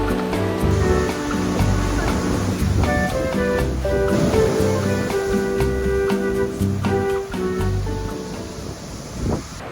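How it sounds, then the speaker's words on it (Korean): Strong ocean waves break at the black sand beach of Waiʻānapanapa park in Hawaii, a loud, steady roar of surf that washes on without a break for almost ten seconds. "이 파도엔 안 돼? 응. 너무 세잖아."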